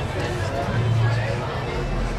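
A dense crowd hubbub at Disney's Jungle Cruise, with many overlapping voices and footsteps forming a close, steady babble.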